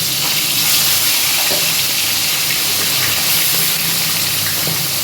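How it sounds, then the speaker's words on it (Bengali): Fish pieces frying in hot mustard oil in a wok crackle and sizzle loudly and continuously, a dense, close bubbling hiss with no voices over it. "এক এক করে সমস্ত মাছ ছেড়ে দেবো আমি লাল করে ভেজে তুলে নেবো"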